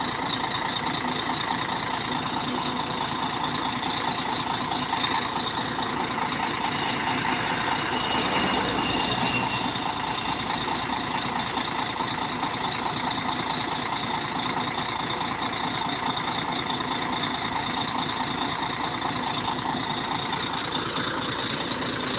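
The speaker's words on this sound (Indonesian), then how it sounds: "Jadi nanti teman-teman bisa bedakan suara mesin Mercedes-Benz" A Litha company bus nicknamed Mamasa, a Mercedes-Benz, runs its engine with a steady, loud drone heard from close behind the vehicle, unbroken for the whole stretch with no talking.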